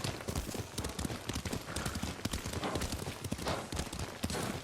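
Hooves of a horse ridden in Ghost of Tsushima clip-clop in a steady, continuous rhythm, close and fairly loud across the whole stretch.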